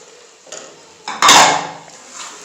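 Beaten eggs are poured into a pan of cooked potatoes (aloo), with clinks and scrapes of utensil against pan and a brief louder splash-like burst in the middle, no talking.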